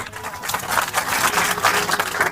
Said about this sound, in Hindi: ताली बजा के एक बार धन्यवाद